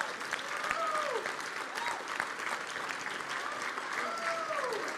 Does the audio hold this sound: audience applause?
yes